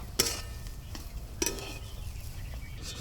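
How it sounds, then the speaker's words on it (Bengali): A spoon stirs garam masala powder into tomato chop filling in a pan: soft scraping with two sharp utensil clinks near the start, close and fairly quiet, with no talking. "গরম মশলার গুঁড়োটা নাড়াচাড়া করে মিশিয়ে নেব"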